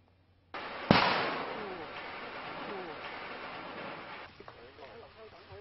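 A rusted, Japanese-made wartime mortar bomb is detonated by bomb disposal officers in Tai Tam Country Park, Hong Kong: one sharp, distant boom followed by a long fading rumble under wind noise.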